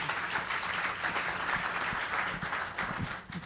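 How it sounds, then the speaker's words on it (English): Applause from a conference audience at a health policy plenary, a fairly faint, steady crowd clapping heard from a distance, sustained for a few seconds before thinning out. "let's give that another round of applause"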